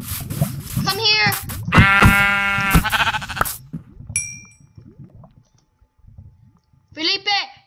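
Sheep in a blocky survival video game give several loud, close, quavering bleats in quick succession, then a final bleat after a pause, with a person speaking between them.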